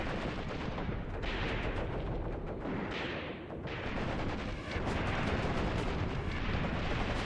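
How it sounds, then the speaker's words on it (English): A mortar shell explosion amid dense gunfire in the World War II tactics game Graviteam Tactics: Mius Front, a loud continuous roar of rattling shots and blasts that swells and dips throughout. "I think that was a mortar shell."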